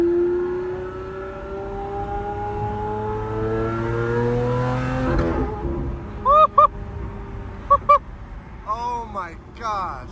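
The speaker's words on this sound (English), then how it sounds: "back window open for everything on a straight piped Aventador SV" A straight-piped Lamborghini Aventador SV engine roars loudly from the cabin with the back window open, a steady high drone climbing in pitch before a sharp cut, then brief crackling pops and bursts over a low rumble.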